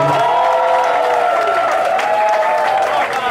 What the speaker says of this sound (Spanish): Un aplauso también para el señor Marco Antonio y Sabrina Ocorro.